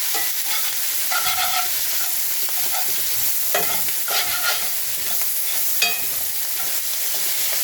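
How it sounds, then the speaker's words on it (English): A utensil scrapes burnt steak bits across a hot frying pan, with rough intermittent scraping strokes over a constant sizzle, up close and with no voices. "Scrape off those burnt steak bits. Pick up that flavor. Clean your pan."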